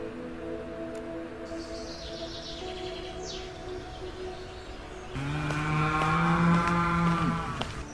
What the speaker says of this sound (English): you already heard, it's a sound of cow